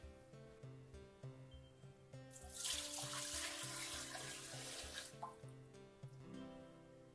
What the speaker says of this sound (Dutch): En dan dek ik mijn botten af met water.